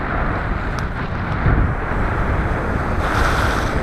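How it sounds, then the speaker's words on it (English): A mountain bike fords a river on the Noble Canyon trail, making a continuous rushing splash of water mixed with heavy wind buffeting on the microphone, close and loud, with no voices. "Hey, let's ford the river."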